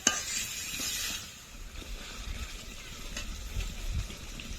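Chicken pieces being fried and stirred with spices and spice-rinse water in a pan for chicken curry with potatoes; a low, steady sizzle and scraping stir under kitchen noise, no talk.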